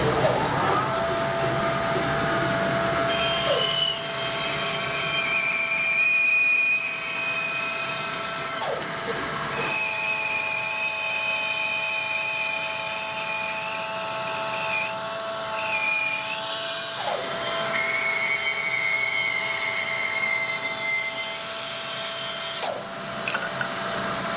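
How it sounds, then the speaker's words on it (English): A power saw whines continuously, with pitch shifting as the blade bites and eases through ripple ash wood, loud and close over a constant machine drone. "So I'll turn on the saw. It'll be a little bit noisy"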